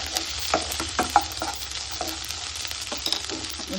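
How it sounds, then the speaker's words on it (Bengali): Sweet corn frying in hot oil, a steady crackling sizzle with repeated scraping and tapping of a spatula stirring the kernels, close and moderately loud, no voices. "তেল আছে, এর মধ্যে দিয়ে দেবো সুইট কর্ন।"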